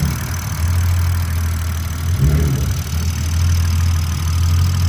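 A 2020 BMW M340i engine idles steadily while warming up, with a low, constant rumble, briefly rising in the middle before settling back; no voices.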